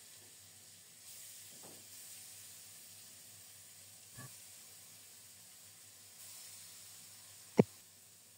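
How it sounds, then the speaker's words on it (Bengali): Fish pieces fry in hot mustard oil in a kadai, giving a steady, quiet sizzle and hiss with a few soft pops and one sharp crackle near the end. "এবার ভালো করে মাখিয়ে সরিষার তেলে লাল লাল করে ভেজে নেব"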